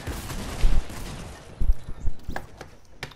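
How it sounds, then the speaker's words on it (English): The legendary Dragon's Breath shotgun fires in Fortnite Chapter 2 Season 5. A few loud, booming blasts come at uneven intervals over a rumbling game background. "I just got a body shot with the legendary dragon's breath"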